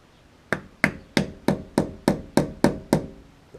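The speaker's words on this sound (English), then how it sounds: "I use this soft hammer." Nine evenly spaced knocks from a soft hammer striking a metal bearing cap on a Mitsubishi Pajero front axle, each a short dull thud with a quick decay, close and fairly loud.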